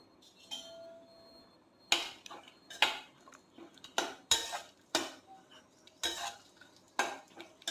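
Cashews, almonds and raisins fry in ghee in a pan, the spoon striking and scraping the metal in a series of loud clinks and taps over a faint sizzle, near and without speech.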